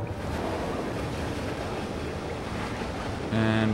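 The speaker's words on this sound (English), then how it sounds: "And rushing water, rushing water" Rushing water fills the scene in the game Limbo, a constant broad roar of flowing water heard close and loud throughout, with a tonal hum rising over it in the final moments.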